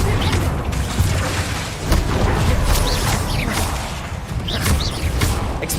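Confringo explosive spell blasts in Hogwarts Legacy, repeated booming bursts and whooshes in a loud, busy combat mix.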